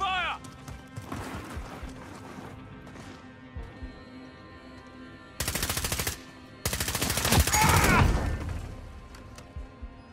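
Warzone video game combat with bursts of rapid automatic gunfire, two dense volleys in the middle and later part, over a busy background of game sounds and speech.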